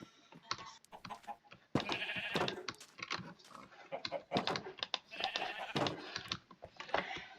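Minecraft sheep bleat repeatedly at close range, layered and busy, with several overlapping calls forming a continuous stretch of game sound.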